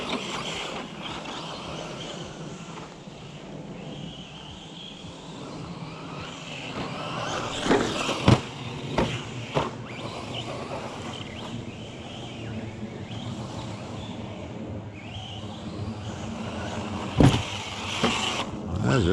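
ARRMA Fury brushless 3900KV RC car running and jumping outdoors, a steady whining motor hum with a few sharp clacks from landings or impacts, at moderate distance under faint background noise.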